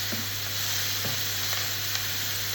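Piri piri burger patties hiss and crackle in a red-hot pan, a steady, close, unbroken sizzle with no voices.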